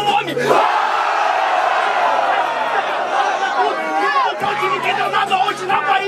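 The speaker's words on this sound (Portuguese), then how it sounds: "hoje tem grito de guerra." A crowd shouts a war cry together, a loud sustained roar of many voices close up, with a singer's voice leading over it.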